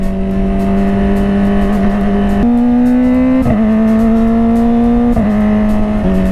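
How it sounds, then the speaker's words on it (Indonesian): Kawasaki ZX25R motorcycle engine at high revs, a loud close whining drone with abrupt pitch drops as gears shift via the quickshifter, each accompanied by short crackling exhaust pops. "Aku cuma nikmatin QS-nya aja, ledakannya aja, enak banget dengernya cok."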